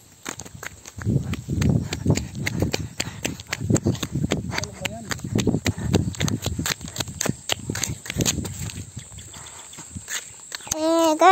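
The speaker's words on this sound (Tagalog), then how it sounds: "Kabayo, kabayo." Horse hooves clip-clop along a road in the mountains of Samar, a steady run of sharp knocks heard amid people talking, with a motorbike engine rising at the end.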